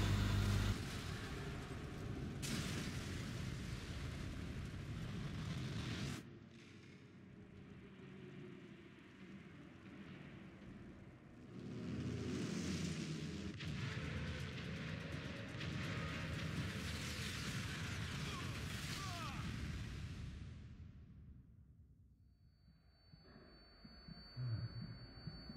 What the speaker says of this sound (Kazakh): Заставка яғни КамАЗдың жарылуы және